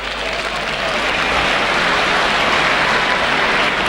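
A rugby league crowd at a Leeds versus Auckland match cheering and applauding, a dense, loud, continuous roar of clapping and voices filling the whole stretch.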